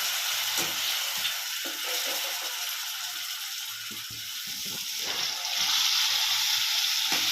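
Tamarind water bubbling and simmering in a pan while cooking pink perch fish fry, a steady close hiss of boiling with faint stirring clicks throughout.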